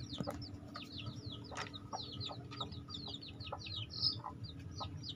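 A brooding mother hen sitting on a clutch of nine eggs from a backyard coop clucks in quick repeated bursts, with other chickens chirping nearby over a steady low background hum.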